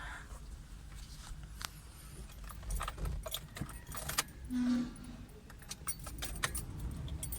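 A bunch of keys jangles in the ignition of a Mitsubishi Lancer being tested for a faulty fuel gauge, close, faint, scattered metallic clinks with a brief louder handling noise partway through.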